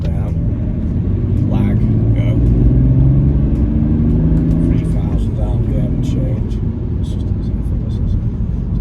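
Remapped BMW E91 330d diesel estate, with DPF and EGR deleted, accelerating hard from about 1500 RPM in third with a loud steady engine drone inside the cabin and a gear change; someone talks over it.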